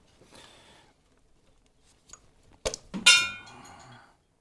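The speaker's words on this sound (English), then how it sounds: "first thing you're going to want to do is pop these clamps off" Metal clamps are pried off the clutch cable of a Harley-Davidson Milwaukee-Eight Softail, giving a few sharp, close clinks and snaps after a quiet start, ending in a brief rattling ring; no talking.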